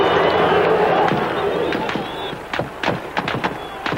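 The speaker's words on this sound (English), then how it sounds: "the masked gunmen, about 10 in all, fired into the air" Masked gunmen fire into the air above a chanting crowd of about a thousand, a string of sharp cracking shots in quick irregular bursts after a noisy crowd roar that dies down.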